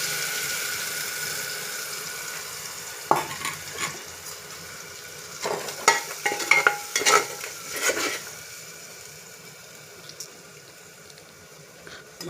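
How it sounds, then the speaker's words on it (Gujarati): Spices tipped into hot oil with ginger paste in a pan for a Gujarati bottle gourd and chana dal curry, giving a steady sizzle and a cluster of sharp stirring scrapes and clatters in the middle, with no talking. "હવે આમાં આપણે મસાલો નાખીશું।"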